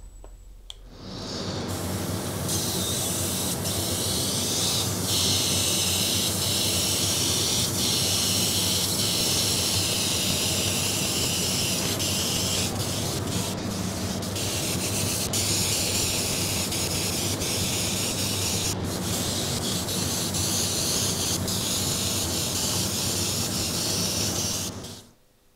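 Airbrush spraying thinly thinned red paint onto a canvas, a steady loud hiss that starts abruptly, holds for about twenty-three seconds with slight fluctuations, then cuts off.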